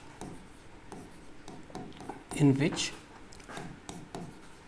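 Chalk or marker scratches and rubs across a classroom board as a chemistry definition is written, soft repeated strokes under a voice.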